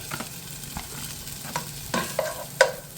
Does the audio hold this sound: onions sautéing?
yes